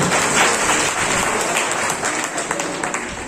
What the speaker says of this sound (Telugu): ఒక్కసారి గట్టిగా చప్పట్లు కొట్టలు కోరుతుంది